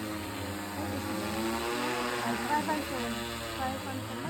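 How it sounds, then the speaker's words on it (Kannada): A drone flies overhead with a steady whirring buzz that swells slightly as it passes, while people talk over it. "ಡ್ರೋನ್ ನೋಡಿ ಡ್ರೋನ್ ನೋಡಿ ಹೆಂಗೆ ಹೋಗುತ್ತೆ"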